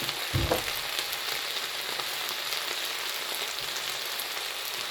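Holy basil (kaprao) stir-fried in a pan with a splash of water, giving a steady, close sizzle and crackle throughout, with a brief spatula thump near the start.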